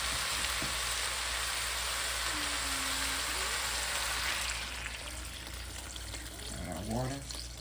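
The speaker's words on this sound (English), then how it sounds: "Add our water." Water runs into a cooking pot for a peanut soul food seafood boil with black-eyed peas, a steady faint pouring rush and a few clinks near the end.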